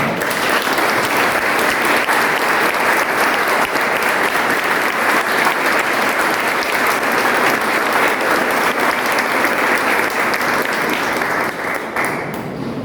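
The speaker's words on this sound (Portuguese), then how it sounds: "Vamos dar uma salva de palmas?" A crowd applauding after a talk featuring Maurício, Gustavo and Ronaldo: loud, dense, sustained clapping that fills the whole stretch and only thins slightly at the very end.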